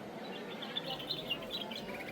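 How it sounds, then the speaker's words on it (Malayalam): Faint, high chirps from baby birds being taught to fly, a few thin tweets over a soft background hiss, with nobody speaking. "കുഞ്ഞു കിളികളെ പറക്കാൻ പഠിപ്പിക്കുകയാണ്"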